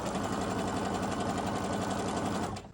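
A sewing machine runs continuously while stitching a simple beginner sewing project, its steady rapid mechanical whir holding close and loud for nearly three seconds before stopping abruptly.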